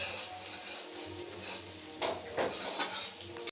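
Mutton fries in a large pot, a steady close sizzle with scraping, clinking stirring strokes rising near the end.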